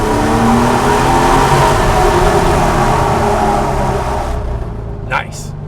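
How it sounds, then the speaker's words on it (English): A Porsche 911 (993) engine with a Pfister Stage 2 exhaust drones loudly and steadily, its sound swelling and echoing in a tunnel, then easing off near the end. "the Pfister Stage 2 exhaust"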